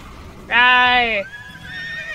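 A horse in a video game (TERA) gives one loud, close whinny lasting under a second, followed by a quieter wavering tone over faint background noise.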